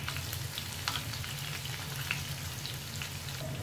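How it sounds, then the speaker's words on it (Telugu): Paneer cubes frying in oil in a pan over a medium-low flame, giving a steady, continuous sizzle with light crackling pops throughout, close and unbroken, with no talking. "ఇలా వేసుకుని గోల్డెన్ కలర్లో ఈ క్యూబ్స్ని ఫ్రై చేసుకోవాలి, మీడియం టు లో ఫ్లేమ్లోనే, హై ఫ్లేమ్లో కాకుండా."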